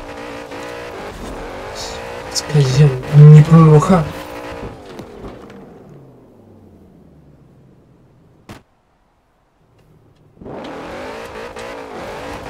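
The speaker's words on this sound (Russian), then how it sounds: "Видимо, у меня прям машина прям ускоряется," A car in the Forza Horizon 4 racing game accelerating hard, engine revving up through rising tones with a loud peak, then winding down, a brief silence, and engine noise returning; someone speaks briefly over it.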